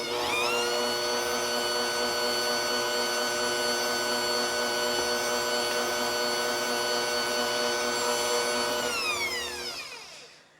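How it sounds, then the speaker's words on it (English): An electric stand mixer runs steadily through licorice snap cookie dough, a loud even motor whine with a rhythmic beat that holds for about nine seconds, then winds down and stops. "scrape down your side and have your mixer mix just a little more"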